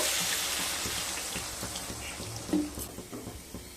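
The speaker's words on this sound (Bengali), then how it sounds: "এবার জল দিয়ে দেবো" Water is poured into a sizzling potato and pointed gourd curry with soybeans in a pan, a broad wet hiss with stirring clatter and a brief splash near the end, close and steady.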